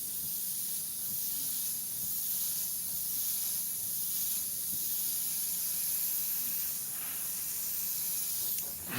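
Steady airbrush hiss of paint spraying close up, a continuous even airy rush that holds for the whole stretch with only slight swells and no talking.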